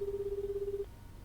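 A telephone rings in the crime-drama video game Judgment with a steady, pulsing electronic trill that runs for most of a second, then cuts off and leaves a quiet room hum.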